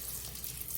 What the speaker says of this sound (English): So regarding the kitchen sink, there seems like the pressure's a little off and it's not running consistently.